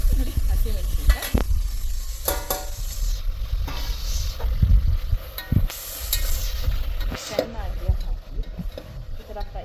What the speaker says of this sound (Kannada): ಸೊ ಆನಿಯನ್ ತುಂಬ ಫ್ರೈ ಆಗಿದೆ